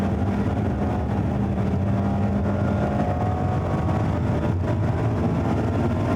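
A Mazda ND3 Miata engine drones loudly and steadily from inside the car on a race track lap, a continuous close engine roar with road and tire noise and no speech.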